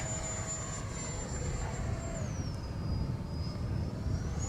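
An RC electric ducted fan delta-wing jet flies a loop, its high whine holding steady and then dipping in pitch as it swings through the manoeuvre, fairly faint and distant over wind-buffeted outdoor noise.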